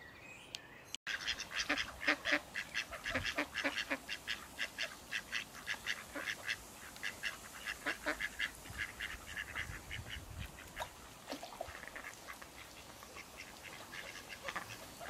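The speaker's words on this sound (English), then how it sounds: "it's goodbye from me and the ducks down the river" Ducks quacking along a riverside, a run of repeated calls fairly close and loud for the first half, then thinning to scattered quacks over steady outdoor background noise.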